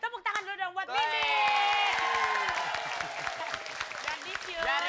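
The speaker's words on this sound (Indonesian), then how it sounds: "Tepuk tangan dulu dong buat Weh." Studio audience at an Indonesian comedy variety show breaks into sustained applause and cheering that swells quickly and holds, with a host's voice talking over it.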